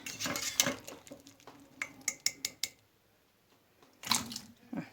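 Boiled green figs being made into jam plop into cold water in a pot, a series of close splashes and clinks against the pot, then a pause and a few more drops.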